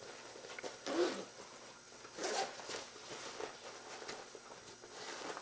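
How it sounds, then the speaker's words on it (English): Zippers on a new bag being pulled open during an unboxing, two or three short rasping zips close by and fairly quiet, separated by soft handling rustle. "There's so many zippers."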